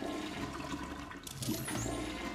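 A toilet flushes in Luigi's Mansion 3, a gushing rush of water that swells midway with a bright splashing burst, heard alone at moderate volume.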